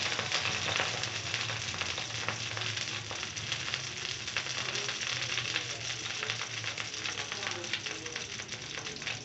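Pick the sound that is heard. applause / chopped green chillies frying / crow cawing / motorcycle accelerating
chopped green chillies frying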